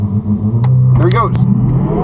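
A car launches from the line at a quarter-mile drag race, recorded from inside. A steady, loud, low engine roar builds under a voice.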